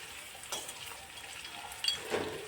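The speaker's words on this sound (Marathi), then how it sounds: "कांद्याला आपण चांगलं असं फ्राय करून घेणार आहोत" Onions fry over a medium gas flame for vegetable pulao, a soft, close sizzle broken by a few brief spatula stirs and scrapes, fairly quiet and without talk.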